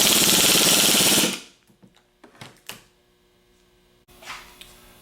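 A 1/2 inch impact wrench with a 15/16 socket hammers loudly on an alternator pulley nut in one burst of about a second and a half, followed by a few light clicks and clanks of parts being handled.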